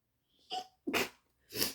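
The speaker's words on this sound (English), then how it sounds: "I just sneezed" A person gives a soft breathy intake and then two sharp, close sneezes in quick succession, loud against an otherwise quiet room with no talk.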